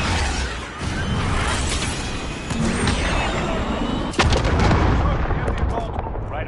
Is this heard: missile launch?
yes